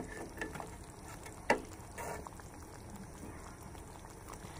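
Mutton chaap cooks slowly on a low flame with no water added, giving a soft, continuous sizzle and bubbling at moderate distance with one faint clink, and no talking.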